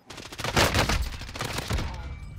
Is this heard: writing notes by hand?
no